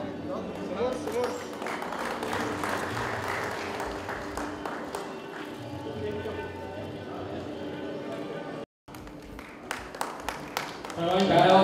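Audience applause at a co-operative credit society's annual general meeting: a sustained clatter of many hands clapping fills the hall, with a voice speaking over it, a brief cutout, then louder clapping again.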